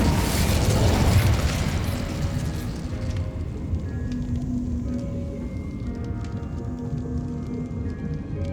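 An Incendio fire spell cast in Hogwarts Legacy bursts with a loud roaring whoosh at the start, then fades into a crackling, rain-like sizzle with faint magical chimes and tones trailing behind.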